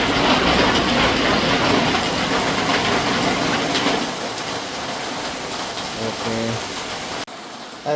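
Heavy rain pours down steadily in a dense, loud hiss that thins somewhat partway through, with a faint voice and low hum near the end.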